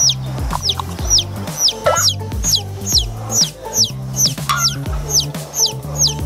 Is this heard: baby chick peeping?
yes